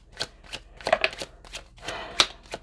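Tarot cards being shuffled by hand: a series of quick, crisp riffling and slapping bursts in an uneven rhythm, close and moderately loud, with no talking.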